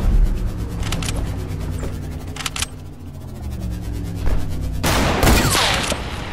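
Gunfire in a first-person shooter video game, with bursts of rapid shots early on and a louder, sharper volley near the end, over steady game ambience.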